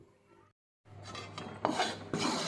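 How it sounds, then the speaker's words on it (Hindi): Flour is roasted in a pan and stirred with a spoon, giving dry scraping and rasping strokes against the metal, with a short silent gap before the louder stirring resumes. "आटे को हम अच्छे से भून लेंगे।"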